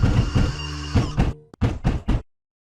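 Knocking on a wooden door in a scary story, several loud, close bursts of heavy knocks in quick clusters, then a sudden stop into silence.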